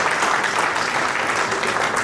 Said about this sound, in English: A bigger round of applause for Councillor Gongloe.